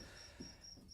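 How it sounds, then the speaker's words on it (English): Crickets chirping steadily in the background outdoors near a barn, a faint, high, pulsing trill repeating evenly throughout. "there's quite a bit of crickets in the background"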